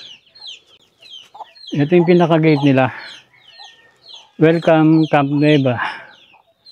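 Hens and chicks at a mountain campsite gate cluck in two close, loud bursts of throaty calls, with someone talking softly between them.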